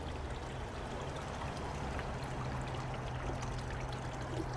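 Water pouring steadily to top off an outdoor guppy tank, a continuous close trickling and splashing flow with no talk.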